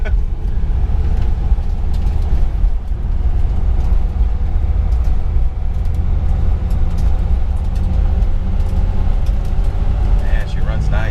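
A 1956 Dodge Sierra nine-passenger wagon with a 315 V8 and push-button transmission runs steadily from inside the cabin, giving a low, constant engine rumble while people talk over it.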